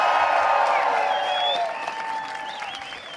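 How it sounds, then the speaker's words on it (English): A crowd applauding Liberal candidates at a political rally in Windsor, Ontario, a sustained wash of clapping with some whistles and cheers that gradually fades toward the end. "Let's give them a round of applause."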